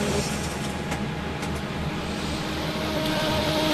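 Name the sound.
race car engine at Le Mans, from video game Project CARS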